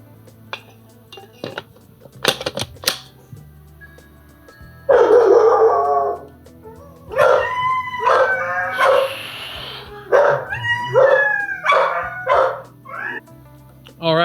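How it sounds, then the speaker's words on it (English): Several dogs bark and yip excitedly in bursts after a doorbell rings, loud and close, with clattering dishes and thumps early on before the barking takes over. "we had the doorbell ring and the dogs go nuts while we were recording"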